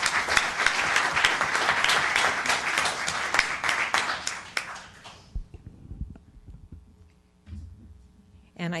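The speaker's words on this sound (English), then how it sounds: "So let's give this wonderful business a round of applause." Town council meeting audience applauding a local business, a dense burst of clapping that fills the room for about five seconds before cutting off abruptly, leaving a few faint taps and quiet room noise.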